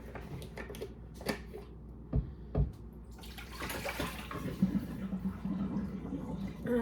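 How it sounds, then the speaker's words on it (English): Hot water poured out of a pot of mac and cheese into a sink, a few sharp clanks of the pot followed by a splashing, gushing pour that grows fuller toward the end, recorded up close indoors. "I'm gonna dump this out, the water."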